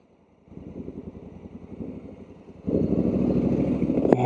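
A Honda Africa Twin 1100 automatic adventure motorcycle in sport mode pulls away and accelerates. The engine note climbs and pulses, then jumps louder as the bike holds the gear and revs higher.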